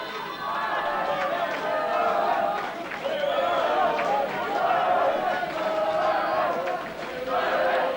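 Capacity crowd at a kickboxing world title fight, a steady, loud wash of chatter and murmuring voices filling the hall with no single voice standing out, rising and dipping slightly throughout.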